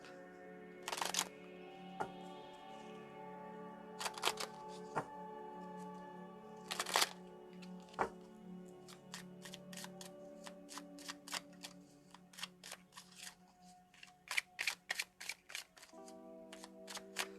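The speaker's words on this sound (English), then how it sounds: "Let me shuffle it up." Quiet, close crackling flicks and riffles of cards being shuffled, coming in several short bursts with brief pauses between.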